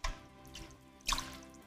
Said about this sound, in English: After rinsing the chicken thoroughly under running water, I transfer the pieces to a clean bowl.